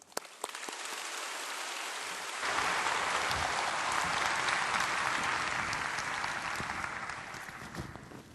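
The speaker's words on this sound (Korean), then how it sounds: "나오실 때 환영하는 마음으로 박수해 주시기 바랍니다" A church congregation in a Korean evening service applauds to welcome a visiting pastor, the clapping swelling into a full, even roar that holds steadily throughout.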